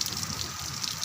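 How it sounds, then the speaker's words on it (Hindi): Rain falls steadily in a hilly rural setting in Himachal Pradesh, a continuous close hiss with scattered drops and no voices. "हमारे ऐसी बारिश हो रही है, अभी इस तरह का मौसम है।"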